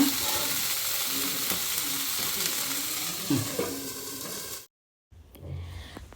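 Food sizzles gently in a pan over a low gas flame, a soft continuous fry with a few stirring clinks, then the sound cuts out briefly before faint kitchen noise resumes.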